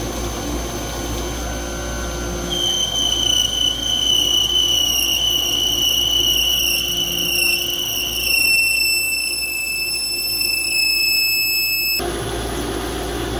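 A CNC mill running in turning mode with an insert cutter whirs loudly and steadily, with a thin high tonal whine from the cut that rises and holds before ending sharply near the close.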